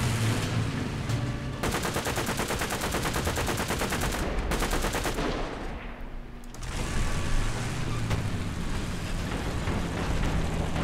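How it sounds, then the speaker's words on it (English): Anti-aircraft gun in War Thunder firing long rapid rhythmic bursts, loud and steady, pausing briefly midway before resuming, with no talk over it. "now I've got nothing better to do than pretend I'm an anti-aircraft gun"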